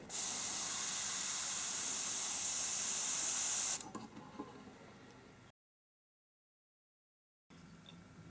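An airbrush sprays cleaner in a loud, steady hiss for several seconds, then cuts off, leaving faint ticks and handling noises, silence, and a quieter hiss returning.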